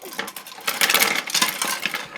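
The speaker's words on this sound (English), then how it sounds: "I just threw my brushes everywhere." Paint brushes tossed down and scattering across a surface, a burst of light clattering and rattling taps over about two seconds, fairly close and moderately loud, with no talking.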